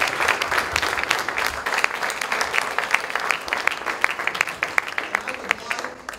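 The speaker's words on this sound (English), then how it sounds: "I'd like everyone to give a super round of applause." Audience at a shipping industry panel discussion gives a round of applause, with dense, lively clapping and sharper individual claps standing out, tapering slightly toward the end; a voice is faintly mixed in.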